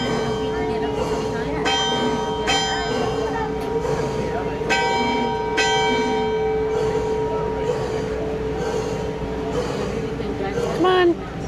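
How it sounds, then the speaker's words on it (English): A steamboat's deck bell on Lake George, aboard the Minne Ha Ha, clangs in a handful of ringing strokes spaced a second or two apart, each tone lingering over a steady background hum with faint voices. "we're going to ring our deck bell"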